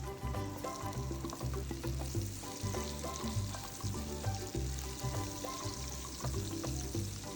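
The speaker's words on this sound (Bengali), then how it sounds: "এখন পেঁয়াজগুলো ভেজে নেব, সাথে ক্যাপসিকাম এবং টমেটোটাও দিয়ে দেবো একটু পরে।" Onions fry in a pan ahead of capsicum and tomato, giving a continuous, moderately quiet sizzle with steady bubbling and occasional stirring sounds.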